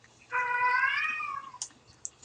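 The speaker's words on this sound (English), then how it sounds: "my cat is just meowing his little head off in the background" A pet cat lets out one long, drawn-out meow close by in a quiet room, followed by a few small faint clicks.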